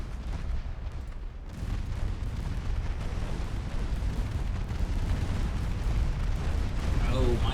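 Naval guns fire in the warship game Ultimate Admiral Dreadnoughts, heavy booming blasts and rumbling reports layered over continuous battle noise, with a voice talking intermittently.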